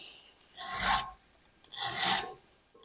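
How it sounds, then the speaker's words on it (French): A round file rasps across a chainsaw chain's cutters in two separate strokes, each a close, breathy scrape with a quiet pause between them. "La lime ronde, juste venir gratter 2-3 coups."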